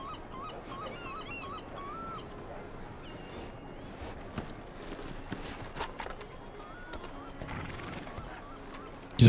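A horse in the Red Dead video game clip-clops along with a glitchy gait, hoofbeats mixed with bird honks and game ambience, while people talk over it.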